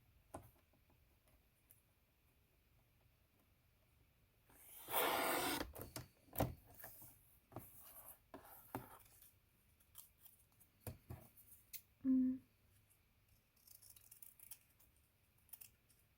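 Scissors cut through craft card stock in a quiet room, a burst of snipping followed by scattered ticks and light handling clicks, then one sharp snip.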